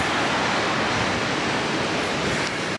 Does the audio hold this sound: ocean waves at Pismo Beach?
yes